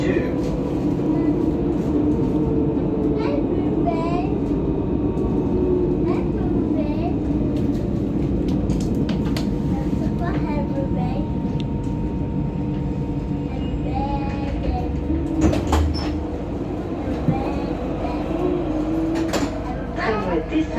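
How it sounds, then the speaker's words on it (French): Lyon's T5 tram runs with a steady rumble and rolling wheel noise throughout, plus occasional clunks and door sounds, while people talk and announcements play over it. "Tramway T5, direction Eurexpo. Tramline T5 to Eurexpo."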